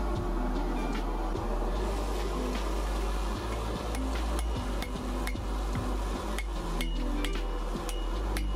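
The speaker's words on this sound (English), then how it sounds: "I took several heats and forged in the rough profile that I wanted." A hammer forges a Damascus steel billet into rough shape, a steady series of sharp metallic strikes ringing close over a constant low forge roar, with no talking.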